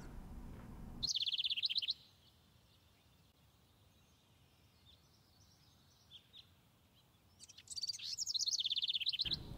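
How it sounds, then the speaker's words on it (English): A black-capped chickadee calls outdoors in two quick bursts of high chirps, one early and one near the end, separated by faint hush. "Another black-capped chickadee."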